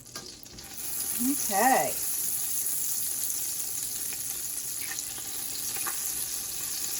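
Garlic-infused olive oil sizzles steadily in a pan as something melts into it, a close, continuous fry hiss. A short voice speaks briefly near the start.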